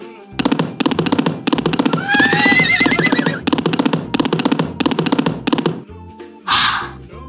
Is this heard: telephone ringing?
no